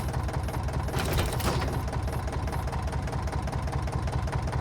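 A farm tractor's engine runs close and loud with a steady, rumbling, slightly knocking chug that holds level for several seconds without any talk.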